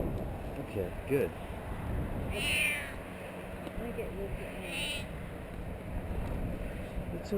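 A small kitten stuck high in a white pine in Athens, Ohio, during a New Year's Day windstorm meows a few times in thin, brief cries over gusting wind, while a rescuer speaks gently nearby.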